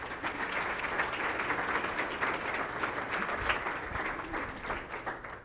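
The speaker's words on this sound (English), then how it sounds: "Let's please give her a round of applause." Audience at a college fall convocation breaks into a sustained round of applause, a dense, even wash of many hands clapping that holds steady for several seconds with no talking over it.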